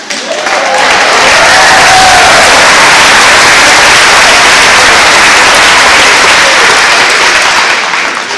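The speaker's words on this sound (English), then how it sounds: "that applause is because I got your name right" A large graduation crowd at Capitan High School's 2015 ceremony bursts into loud, dense applause with some cheering, sustained for several seconds before easing off.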